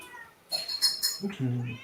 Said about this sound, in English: you're going to have to get that cat a muzzle